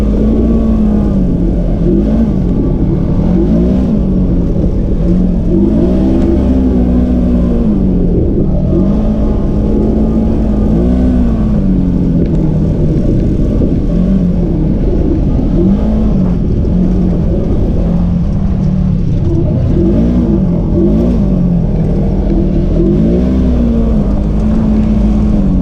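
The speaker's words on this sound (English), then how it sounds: "Most of these side-by-sides have what's called a constant velocity transmission clutching system." Side-by-side off-road vehicles with CVT clutching run at the Hatfield McCoy trails, their engines droning loudly and rising and falling in repeated revs over a constant rumble for the whole stretch.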